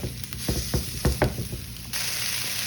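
Ground beef browning in a hot pan while being sautéed and broken up, a steady sizzle broken by several sharp scraping, stirring knocks of a utensil against the pan, with no one talking.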